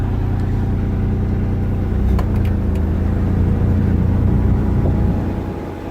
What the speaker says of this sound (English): the car still runs.